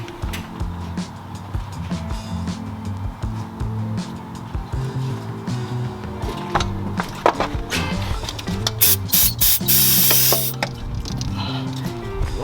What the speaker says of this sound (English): I'm just going to take a little brake cleaner, spray all these pulleys down and wipe them down one more time